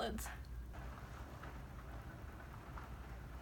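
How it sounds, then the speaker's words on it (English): Rain falls outside during an indoor recording, a faint steady patter with soft hiss throughout and a few brief taps near the start. "I'm sorry if you guys can hear the rain now on camera."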